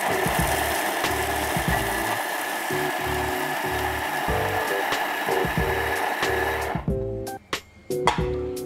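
A food processor blitzing trifle cake ingredients at speed 6 to 7 makes a close, loud, grinding whir with a pulsing, chopping rhythm that cuts out, followed by a few short clunks.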